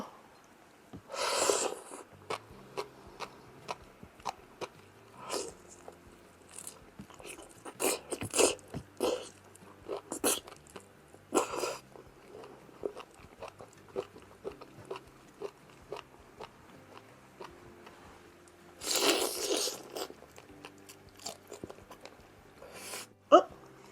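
Someone eating shrimp full of roe up close: scattered wet smacks, bites and chewing clicks, with a few louder slurps or sucks, in an otherwise quiet room.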